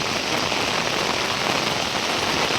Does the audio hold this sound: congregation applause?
no